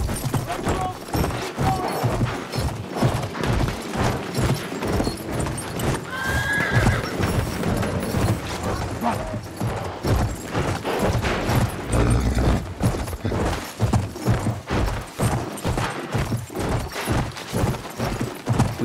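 Horse galloping in the World War I shooter Battlefield 1, with steady rapid hoofbeats, snorts and a whinny set against battlefield commotion throughout.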